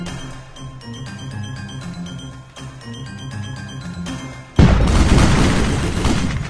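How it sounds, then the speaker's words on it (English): Airstrike explosions in a hex wargame video game: a deep, heavy boom erupts suddenly and rumbles for a couple of seconds after a stretch of steady music-like tones. "What I am going to do is use a good old-fashioned airstrike."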